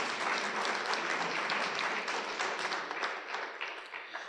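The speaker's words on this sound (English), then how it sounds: "So another round of applause to yourselves." Dense, steady applause from a large audience at a university prize giving ceremony, a continuous wash of many hands clapping without a break, fairly even in level throughout.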